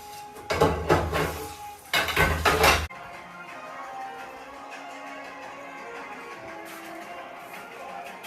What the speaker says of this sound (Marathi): मी भांडी घासते